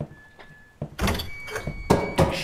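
A door opens in the horror game Apartment 666, a few low thunks and broadband bursts with a louder knock-like hit near the end, set against a quiet eerie hum.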